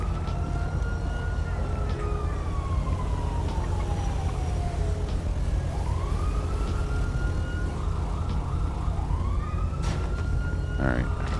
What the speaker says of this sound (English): if we do code 3, they're going to show up lights and sirens on